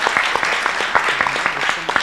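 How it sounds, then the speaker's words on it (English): A room of delegates at the World Scout Parliamentary Union general assembly claps for a newly welcomed board member, dense and fairly loud, with a few sharper individual claps standing out and no voices. "Give her a round of applause."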